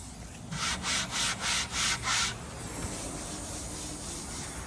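A polyurethane clear coat, already gone over with an air sander, is sanded by hand in five quick rhythmic strokes, each a close, crisp scratchy rub, before fading into quiet background hiss.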